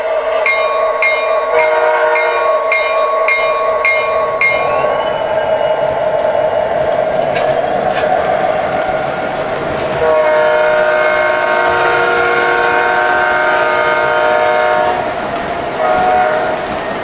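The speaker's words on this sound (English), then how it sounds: "How's that for a passenger train, huh?" An MTH model VIA Rail P42DC Genesis diesel passenger train sounds a series of short, loud horn blasts, then keeps rumbling past with a steady mechanical drone and further horn notes near the end.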